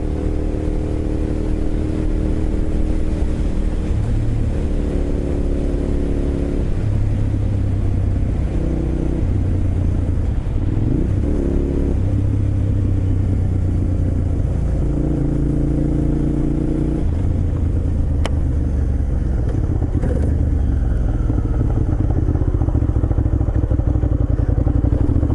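A first motorcycle being ridden, its engine revving and shifting through gears in a steady close rumble with wind noise throughout, no talk.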